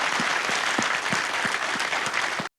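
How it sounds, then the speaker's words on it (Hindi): Audience applause for a CRPF tribute at a televised event, a steady dense clapping from a crowd that fills the clip and cuts off abruptly at the end. "एक बार जोरदार तालियां सीआरपीएफ के लिए, हमारे अनसंग हीरोज के लिए।"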